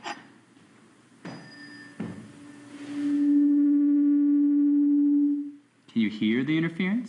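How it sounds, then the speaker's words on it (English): Two pure electronic tones very close in pitch play together, forming a steady, loud sustained hum with slow beating. Shorter tone onsets come before it, and a voice starts speaking right after it stops. "When two frequencies are very close together, they add rhythmically, both constructively and destructively. The result is called beats."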